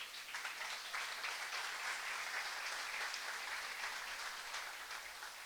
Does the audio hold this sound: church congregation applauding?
yes